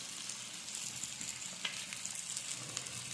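Onion and tomato pieces fry in a pan with coriander powder for a spicy chicken fry, giving a steady soft sizzle with faint crackles and occasional stirring scrapes.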